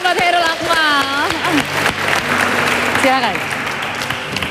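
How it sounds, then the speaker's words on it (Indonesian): Applause from a school audience at Insan Cendekia Serpong for a performer, steady and fairly loud throughout, with a voice sliding in pitch over it at the start and again near the end. "Terima kasih tepuk tangan buat Khairul Akmal"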